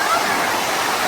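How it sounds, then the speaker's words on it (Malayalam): Kozhippara waterfall at Kakkadampoyil pours in a dense, continuous roar of rushing water, loud and close with no break. "ഇതാ നമ്മൾ ഈ ബാക്കിൽ കാണുന്നതാണ് കോഴിപ്പാറ വെള്ളച്ചാട്ടം, അതായത് കക്കാടംപോയിൽ വെള്ളച്ചാട്ടം."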